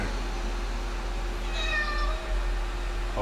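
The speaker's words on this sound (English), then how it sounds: "The cat just wants to be your friend." A cat meows once in a horror video game, a clear drawn-out mew over a steady low ambient hum, moderately close.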